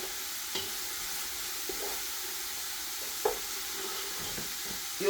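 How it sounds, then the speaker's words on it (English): Onions frying in a pan as part of a big batch of pasta Bolognese, a steady soft sizzle with an occasional stir or clink of the utensil, close and fairly quiet with no talking. "So I've added the onions, and you have to fry the onions for a little bit"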